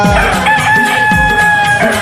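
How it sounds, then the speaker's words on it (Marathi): A rooster crowing with loud, drawn-out tonal calls. It sounds close and fills the short clip, with no speech. "चार वाजले कोंबडा आरवला"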